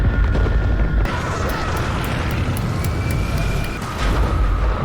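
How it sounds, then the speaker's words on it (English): An explosion from the TV show Stranger Things rumbles loud and dense, a sustained low roar with scattered crackling debris over a broad wash of noise. "Oh, that's gonna explode."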